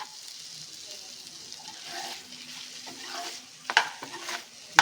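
Mutton dry fry sizzles steadily in a pan as it is stirred, with a soft continuous hiss. Scraping stirs rise near the end, and a few sharp clinks sound up close.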